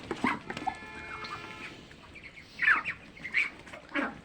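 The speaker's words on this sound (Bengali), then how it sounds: "যে চীনা হাঁসগুলো বড় হয় সেগুলো আমি বাসাতে খাই এবং বিক্রয়ও করে থাকি" Chinese ducks raised for meat give a few short, nasal calls and squawks at close range, scattered across the few seconds with quiet gaps between.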